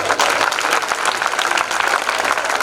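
Loud, dense applause from an audience at a religious sermon gathering honouring women, a steady wash of many hands clapping without pause.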